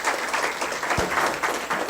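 An audience at an international conference inaugural ceremony claps together in steady, lively applause, loud and close, with one sharper clap standing out near the middle.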